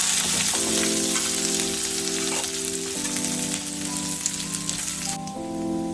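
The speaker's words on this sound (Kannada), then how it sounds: "ಮತ್ತು ಮೆಣಸಿನ್ಕಾಯಿ, ಕೆಂಪು ಮೆಣಸಿನ್ಕಾಯಿ ಹಾಕಿ ಚೆನ್ನಾಗಿ ಹುರ್ಕೊಳ್ಳೋಣ." Green and red chillies fry in a pan for a North Karnataka egg curry, giving a steady, crackling sizzle close up. A low tonal hum shifts pitch in the background, and no voices are heard.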